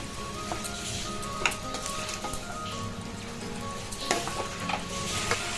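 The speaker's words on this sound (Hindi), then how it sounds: "अच्छा भून लेंगे ये।" Tomatoes fry in a pan for turai chana dal, a continuous soft sizzle and crackle with occasional louder pops and stirring scrapes, close and steady with no talking.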